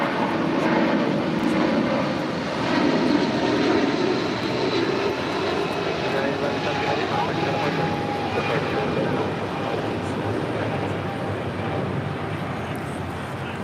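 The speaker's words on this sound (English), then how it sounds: "This is United Airlines flight 1170 departing to Honolulu on a 777-200" A United Airlines Boeing 777-200 departing for Honolulu produces a loud, sustained broadband engine roar that stays steady throughout, with faint voices underneath.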